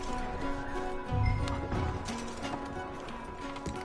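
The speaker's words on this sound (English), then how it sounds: "Micah, go bring the horses closer to the house." Horse hooves clip-clop on the ground in Red Dead Redemption 2 as the horses are brought toward a house, a steady run of hollow knocks with low rumbling underneath and no talking.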